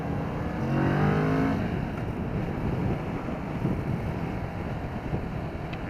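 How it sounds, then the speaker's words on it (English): A 2015 Kawasaki Vulcan S cruiser motorcycle is ridden on the road, its engine droning steadily and briefly rising in pitch early on, under heavy wind rush across the microphone. "today I'm on the 2015 Kawasaki Vulcan SS. This is a cruiser style motorcycle from Kawasaki"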